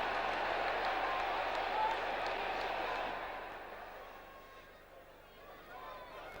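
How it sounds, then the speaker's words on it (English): A big crowd in a football stadium at a late-1980s Middlesbrough match claps and cheers loudly, then the applause fades to a softer murmur over several seconds. "Well, a big crowd here"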